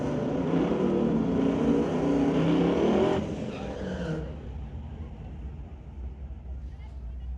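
A street-legal drag race car at a raceway strip, loud at first with roaring engine and tyre noise for about three seconds, then fading into distant track rumble as an announcer talks over it.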